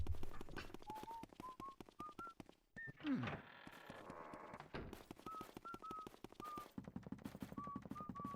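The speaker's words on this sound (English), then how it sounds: "We're just merrily whistling along while we go." Luigi whistles a cheerful tune in Luigi's Mansion, short melodic notes rising in steps, backed by a quick, steady ticking beat from the game audio with a brief rushing noise partway through.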